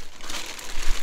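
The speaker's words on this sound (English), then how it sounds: "So I'm gonna take it out of its little bag here." A heavy-duty plastic bag crinkles and rustles as a part is pulled out of it during a machine restoration, with dense, continuous crackling close by that swells slightly toward the end.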